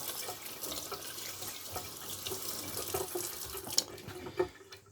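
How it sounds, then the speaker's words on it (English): Tap water runs steadily into a sink as hands are washed beneath it, a close, continuous splashing with small drips and knocks and no talking. "Let me just wash my hands off a little bit."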